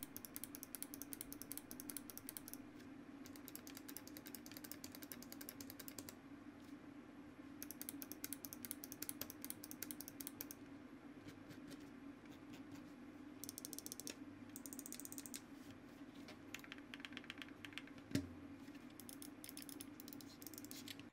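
SteelSeries Aerox 9 and Aerox 5 gaming mice clicking: faint, quick bursts of light plastic clicks, close up, over a steady low background hum.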